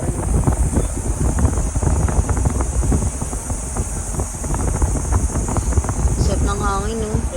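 Strong wind buffets the microphone continuously on a moving boat headed to Puerto Azul, with a low rumble underneath and a brief voice near the end.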